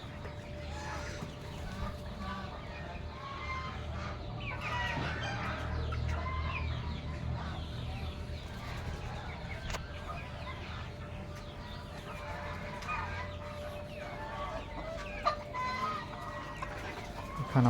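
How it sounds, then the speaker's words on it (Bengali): Native country chickens cluck among farm ambience, with occasional sharper calls over a steady low background hum; no speech. "এখানেও আছে দেশি মুরগি।"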